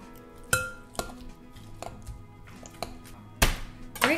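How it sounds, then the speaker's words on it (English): Avocado mashed with lime juice and salt in a bowl for guacamole gives a series of sharp clinks and knocks of a utensil against the bowl, spaced irregularly, close and clear with no talking. "And let's give this a mash."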